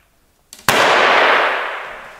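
A carnival confetti shooter fires Colorful Air Snakes outdoors: one loud, sharp pop with a brief click just before it, followed by a long hissing rush of streamers that slowly fades.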